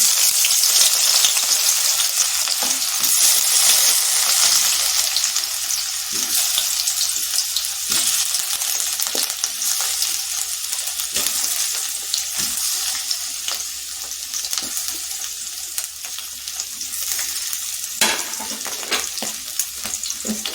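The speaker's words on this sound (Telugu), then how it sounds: "ఒక వన్ టేబుల్ స్పూన్ అంత ఆయిల్ అయితే ఫస్ట్ తీసుకొని ఇందులో ముందుగా వచ్చేసి బంగాళదుంపల్ని వేయిస్తానండి" Potato pieces fry in about a tablespoon of oil in a pan, making a steady, close crackling sizzle that runs on throughout with occasional small clicks and no voices.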